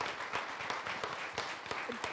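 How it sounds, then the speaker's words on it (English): Audience applause at a keynote address for a Day of Collective Action, fairly quiet and steady, with scattered sharp claps standing out over a soft wash of clapping throughout. "I think you all should just give her a little round of applause"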